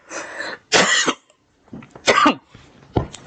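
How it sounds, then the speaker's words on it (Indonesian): Several dry coughs and throat clearings from a person during a stock market talk, coming in short separate bursts close to the microphone, with quiet gaps between them and no speech. "Oke, sorry, batuk."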